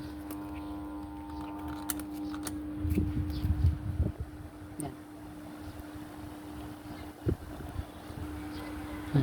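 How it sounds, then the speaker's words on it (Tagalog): Small electric fan powered by a basic solar battery and inverter setup, giving a steady low hum with a faint whir, quiet and close, broken by occasional clicks and handling knocks. "Ayan, nakasaksak ito yung electric fan."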